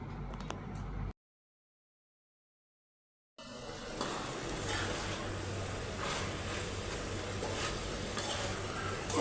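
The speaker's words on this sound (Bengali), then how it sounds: "দুইটি যে এখানে দেখেন ভেন্ডি ভাজি বসিয়ে দিচ্ছি অলরেডি।" Okra frying in a pan gives a soft, steady sizzle with scraping stir strokes, quiet and close, after a short gap of silence near the start.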